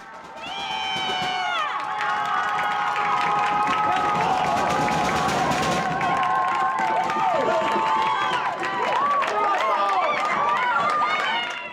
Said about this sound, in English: The home crowd is loud and excited